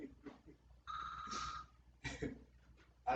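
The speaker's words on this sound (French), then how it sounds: "Arrêtez-moi ce téléphone." A telephone rings indoors in short bursts with pauses between them, moderately loud, while muffled speech is heard around the rings.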